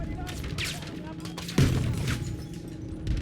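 An MG42 machine gun fires in Battlefield 5, dense bursts of rapid shots with a heavier boom midway, close and loud beneath a player's speech.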